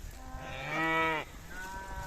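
A cow moos once, a clear, drawn-out call lasting under a second, from a herd moving through a mountain gorge toward summer pasture, with a fainter second call trailing after.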